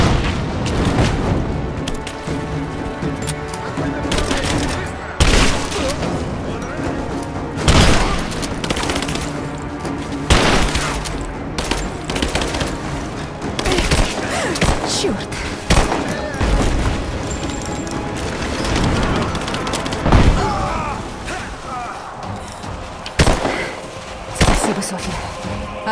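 Continuous gunfire and booming explosions from a Lara Croft Tomb Raider video game fill the clip, with bursts of automatic fire and sharp shots layered over a dense battle din.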